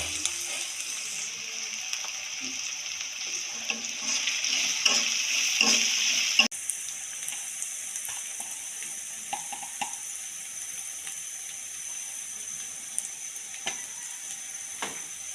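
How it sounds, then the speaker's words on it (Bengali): Onions and chilies fry in oil on a stove for a spinach dish. A loud, close sizzle drops suddenly to a softer crackle, with occasional scrapes and clicks and no speech. "এখানে যে চুলায় তেলে পেঁয়াজ মরিচ এগুলো ভেজে নিচ্ছি।"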